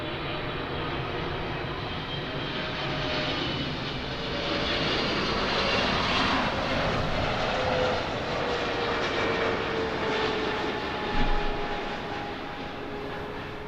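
Airliners roar continuously at Los Angeles International Airport during a busy runway session, a loud, broad engine rumble that swells in the middle and holds steady to the end without a break.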